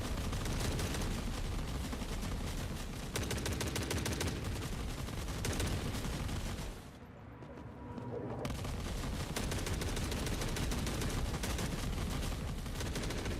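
20 mm turrets in The Forever Winter fire in continuous rapid bursts, a dense, loud rattle of gunfire that briefly drops away midway before resuming with no voices.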